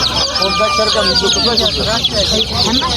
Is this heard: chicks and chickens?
yes